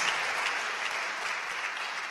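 A church congregation claps steadily for the Lord during a Spanish-language sermon, a dense, continuous wash of many hands with no break and no voices on top.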